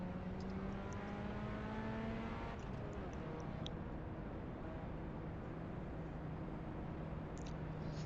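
Pontiac Solstice race car engine at the Nürburgring in the iRacing sim, a steady loud drone with harmonic whine that steps up and shifts through gears over about eight seconds, no talking.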